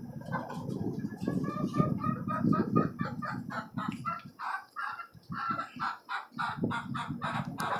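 Desi and tiger chickens and roosters kept in a cage cluck repeatedly in a busy, uneven chorus close by, with a person talking over them.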